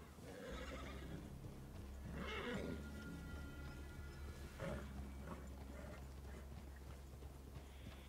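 A horse in the video game Red Dead Redemption 2 whinnies and snorts a few times, quietly, with hoof clops and soft ambient rustle between the calls.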